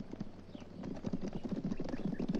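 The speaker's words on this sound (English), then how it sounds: "I hear horses" Several horses approach with steady, overlapping clip-clop hoofbeats that grow louder and nearer, with no talking.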